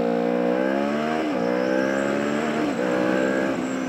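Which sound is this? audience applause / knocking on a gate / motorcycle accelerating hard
motorcycle accelerating hard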